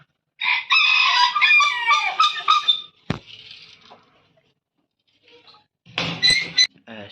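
Roosters in a backyard coop crow in a loud, drawn-out call, then soft clucking and a sharp knock follow, and a second crow bursts out near the end.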